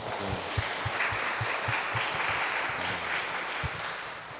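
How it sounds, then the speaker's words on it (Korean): A youth congregation at a Catholic evening Mass claps together in a steady, even burst of applause that fills the room for about four seconds, with no talking over it. "자, 박수 한번 쳐주세요."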